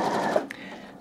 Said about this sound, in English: you can carry on sewing in the other direction